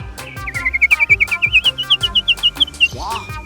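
A caged songbird sings a rapid series of bright, clear chirping notes in a steady run, close by, over faint background murmur.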